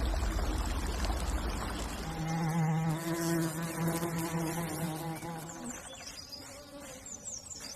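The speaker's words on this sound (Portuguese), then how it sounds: "Abelhas japonesas." Japanese bees in a forest hive make a steady, layered buzz of many wings, swelling mid-clip and thinning toward the end, close and continuous with no voices.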